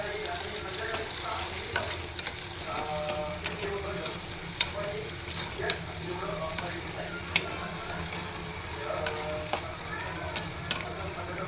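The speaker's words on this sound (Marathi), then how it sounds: "गाजर पण मस्तपैकी असं परतून घ्यायचं आहे आपल्याला." Carrots sautéing in a hot pan give a steady, close sizzle throughout, broken by light scraping and clicking as a spoon stirs them at irregular intervals.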